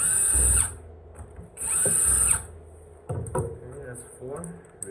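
Power driver backing out T25 screws from a Floatwheel ADV2 electric board cover: two sustained whirring bursts separated by clicks and handling knocks, with a person talking in between.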